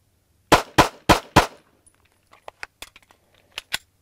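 A handgun fired in a rapid string of sharp, loud shots during a timed shooting drill on a range, followed by quieter metallic clicks and handling noises.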